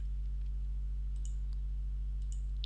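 Right-clicking a computer mouse while working in Excel: two faint, sharp clicks about a second apart over a steady low electrical hum, with no talking.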